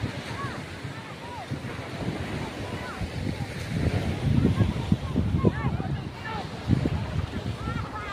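Ocean waves washing onto a beach at sunset, a broad rolling surf with gusts of wind noise on the microphone, bird calls chirping and people walking and chattering nearby.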